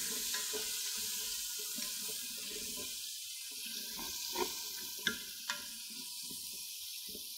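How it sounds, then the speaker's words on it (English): Lamb sautéing in a Ninja Foodi pot gives a steady, soft sizzle with a few faint clinks and stirring sounds, quiet and continuous with no talk. "So let this just saute for a little bit"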